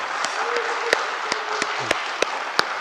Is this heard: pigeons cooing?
no